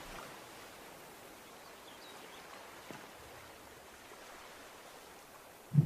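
A faint, steady wash of flowing water, like a stream, plays as Minecraft water ambience, soft and even throughout with a brief bump near the end. No voices.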